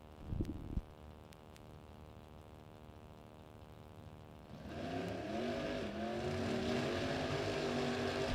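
A 1967 Chevy Deuce drag race car idles with a lumpy, uneven rumble before its engine rises sharply in revs and holds a loud, rough roar, with a short thump near the start.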